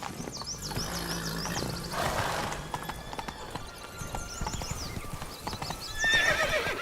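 Roach, Geralt's horse in The Witcher 3, gallops with loud rhythmic hoofbeats and whinnies, while birdsong chirps above and the hooves stay close and steady.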